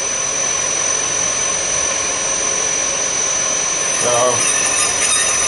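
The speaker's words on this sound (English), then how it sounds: "You can see it's a pretty slow cut to do because it's such a big cutter." A milling machine slowly cutting a large hole with a big cutter at about 90 rpm, kerosene used as lubricant; a steady, loud grinding whine with a high ringing tone runs throughout, rising briefly near the end as someone speaks.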